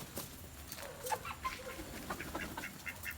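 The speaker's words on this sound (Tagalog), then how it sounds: "Ayan, dyan ang kanilang taguan. Yung mga manok." Chickens tucked in their hiding place cluck in soft, scattered calls, faint and a little distant, over quiet outdoor background noise.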